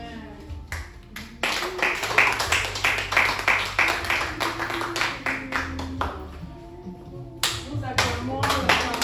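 A church congregation clapping together in a steady rhythmic pattern, loud and close in a reverberant hall, while a voice rises over the clapping.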